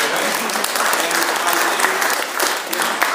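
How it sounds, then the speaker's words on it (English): Steady audience applause fills the whole stretch, a dense wash of many hands clapping at once without letting up. "And yeah, you can applaud."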